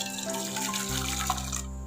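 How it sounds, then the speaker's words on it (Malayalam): Melted jaggery solution for Pesaha milk is poured into a kadai, making a brief, steady liquid pour and splash close up, with a low background hum. "ഈ വെല്ലം അലിയിച്ചത് നമുക്ക് ഇതിലേക്ക് ഒഴിച്ചു കൊടുക്കാം കേട്ടോ."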